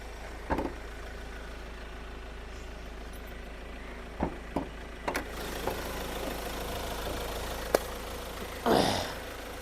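A 2019 Ford Endeavour Titanium+ SUV's diesel engine idles with a steady low rumble, and a few faint clicks and knocks sound nearby.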